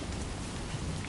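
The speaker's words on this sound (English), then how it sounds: "is at least mostly protected from the rain." Rain pours steadily in the video game Death Stranding 2, a dense, even hiss of falling water that holds at one level through the whole short moment, with no voices.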